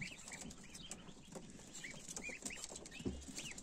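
A crowd of newly hatched goslings on a farm makes repeated high, rising peeps that overlap in a busy, irregular chatter, fairly close and soft, with a brief low thump near the end.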